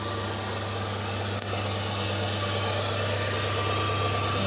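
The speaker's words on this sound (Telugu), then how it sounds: "మోటార్ అది ఇక్కడ ఎలా వచ్చింది" A steady, faint mechanical hum drones throughout, like a small motor running continuously indoors near a bathroom, with a couple of brief clicks early on.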